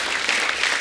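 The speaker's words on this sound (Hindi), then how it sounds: "जोरदार तालियां हो जाएं।" A television comedy show's studio audience claps in a brief, steady burst, moderately loud and continuous, with no talking over it.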